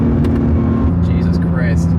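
Honda NSX engine at full throttle on a Japanese mountain touge road, a loud sustained drone with steady rising pitch as the car accelerates hard, close up, with a man exclaiming over it.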